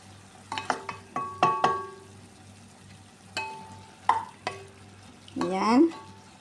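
Sliced bitter gourd (ampalaya) drops into a pan with ground meat, bursts of sizzling and scraping stirs coming in short separate strokes, close and moderately quiet, with a louder crackling surge near the end.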